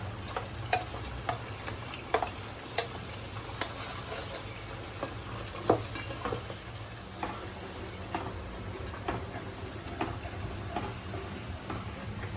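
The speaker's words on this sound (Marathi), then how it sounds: "तर आता आपल्याला ही सगळी पेस्ट घालायची आहे." Ground masala paste fries in oil for Nashik-style Savji mutton with a continuous soft sizzle. Scattered clicks and scrapes from stirring punctuate it.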